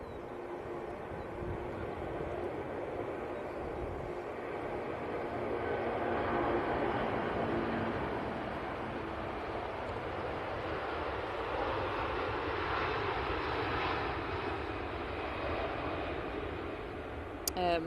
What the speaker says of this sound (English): And you can hear the Emirates A380 starting up.